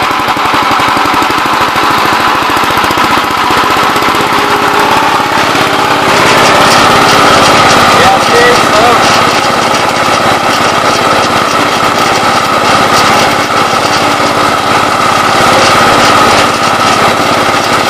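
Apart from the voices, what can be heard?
Gravely 20 gallon sprayer pump running at higher speed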